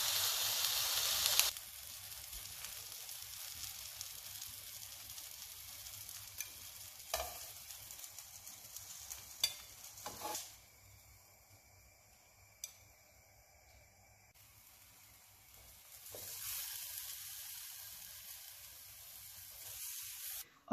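Eggplant slices sizzling and frying in a pan, a steady moderately loud hiss throughout with brief clatters as they are moved and turned.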